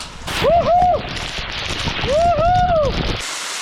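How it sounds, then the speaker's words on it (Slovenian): A 30-metre waterfall in the wild interior of central Istria gives a loud, steady rushing roar, with two brief rising-and-falling whistling tones rising above it before the sound cuts off abruptly. "30 metrov, visok slap."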